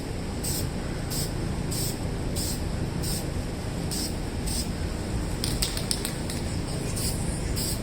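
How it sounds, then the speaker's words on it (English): Light coats of spray paint hiss out in a series of short, regular bursts during a Honda Ruckus tail light refinishing job, each spray stroke brief and evenly spaced against a steady background noise. "Remember to spray your paint even strokes"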